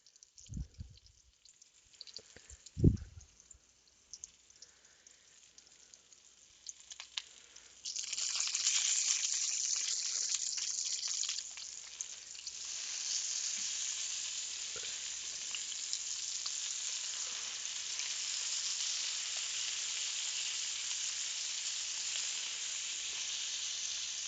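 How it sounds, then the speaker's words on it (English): Sausage and bacon sizzle steadily in an iron skillet for a breakfast fry-up, a soft crackle at first that swells into a loud, continuous hiss with faint scraping over it. "I just kind of rotate my sausage because the center does get hotter in an iron skillet."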